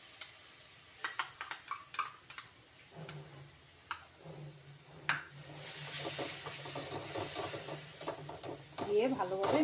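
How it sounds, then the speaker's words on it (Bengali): White chocolate paste being stirred into an almond-powder mixture for kunafa chocolate, with soft scraping and clinking of a utensil against a bowl, intermittent close strokes that grow busier toward the end. "দিয়ে ভালোভাবে মিশিয়ে নেব।"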